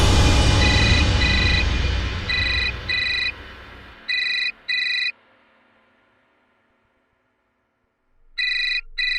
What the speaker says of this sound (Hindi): ये अपना फोन क्यों नहीं उठा रही है?